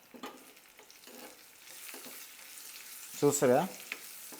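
Curry leaves and a pinch of turmeric sizzling in a tempering of hot oil while being stirred, a soft frying hiss with scraping stir strokes and a brief spoken comment near the end.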